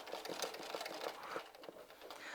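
An old embroidery sewing machine running, a faint, rapid mechanical clatter with steady repeating stitch beats, heard alone.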